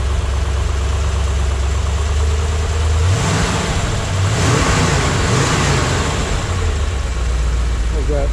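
A 1965 Chevrolet Corvette convertible engine, restored with matching numbers, idling steadily, then revving up briefly mid-clip before settling back to a loud, rumbling idle close by.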